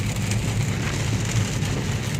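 Rain pours onto a waterlogged highway heading toward Greater Noida after a storm, a brief, close, steady wash of drops with a low rumble beneath.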